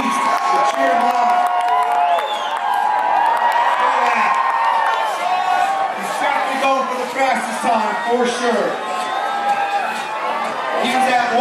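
A crowd at a climbing competition cheers and whoops loudly and continuously for a climber racing up the wall in a seeding round, with scattered shouts, claps and voices talking over the din.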